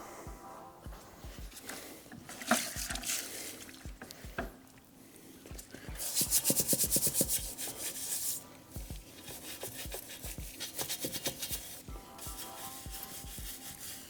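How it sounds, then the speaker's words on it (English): A brush scrubs a wet truck wheel rim, giving irregular rough bristle rubbing strokes with bursts of harder, louder scrubbing and occasional knocks, close up and without talk. "So we're just gonna give that an extra scrub."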